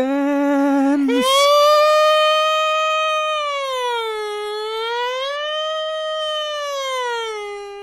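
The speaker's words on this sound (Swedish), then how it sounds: "Är det någon jävla siren utanför dig eller?" A loud siren wails outside with a rising and falling tone, sustained throughout, after a brief burst of other noise near the start.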